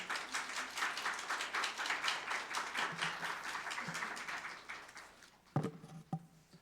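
A church congregation at a Sunday service claps to welcome the preacher, a moderately quiet wash of many hands that thins and fades out, with a few louder bumps near the end.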